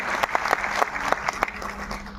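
An audience claps for a team, a dense patter of many hands at moderate distance with a few sharper individual claps standing out.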